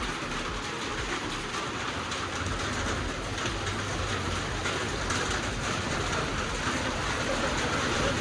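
Steady, dense rain roars without a break on metal roof sheets, a broad hiss and patter like a downpour drumming on sheeting, with no voices.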